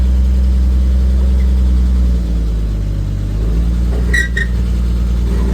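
A 1954 Metro van's engine rumbles loudly from inside the cab during a test drive, a steady low drone that eases slightly midway, with a brief clunk near the end and no speech.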